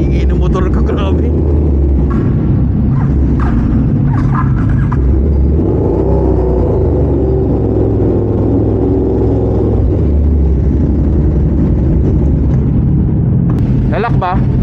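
A KTM Super Duke motorcycle engine rumbles steadily while riding on a long ride in Mindoro, with people talking over it throughout.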